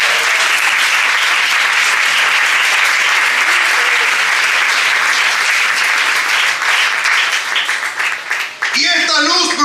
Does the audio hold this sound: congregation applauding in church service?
yes